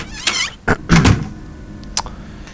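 Door in the survival horror game Silent Hill, a few separate heavy knocks and thuds with metallic ringing, loud and close, spaced over a couple of seconds without speech.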